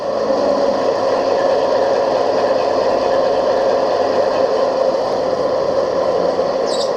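A model railway Class 60 diesel locomotive's idling engine sound plays through an installed speaker, a steady droning hum that stays even and close throughout, with no talking.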